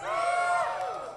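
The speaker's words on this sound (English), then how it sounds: "Cheer if you want sci-fi." An audience at a live convention Q&A panel cheers and whoops in a short, loud burst of crowd noise that fades out.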